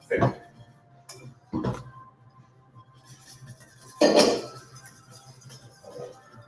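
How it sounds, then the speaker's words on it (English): A metal whisk works in a bowl while cacio e pepe is being made, giving a few scattered, close clinks and scrapes separated by quieter stretches, with no talking. "I'm switching arms because my arm is getting tired of whisking"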